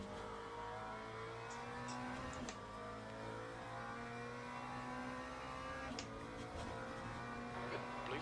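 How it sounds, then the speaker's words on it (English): Race car engines in the Le Mans Ultimate GT3 multi-class race at Sebring, a steady droning engine whine with shifting tones and brief gear-change blips as a faster car closes in, faint and continuous throughout. "Okay, Michael, there's a faster car approaching"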